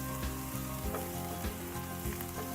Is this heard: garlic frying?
yes